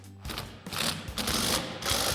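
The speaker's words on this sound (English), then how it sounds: "Then we'll use our 16 millimeter socket on our impact to run this off." An impact wrench fitted with a 16 mm socket spins a nut off a Jeep Wrangler JK suspension part, giving a loud, rattling mechanical hammering in several close bursts with brief gaps between them.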